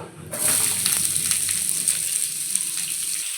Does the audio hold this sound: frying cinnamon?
yes